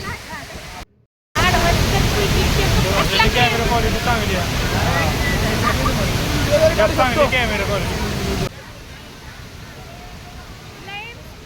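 A waterfall roars loudly and continuously nearby, a dense rushing wash of falling water that cuts out briefly near the start and drops to a softer level near the end, with voices mixed into the noise.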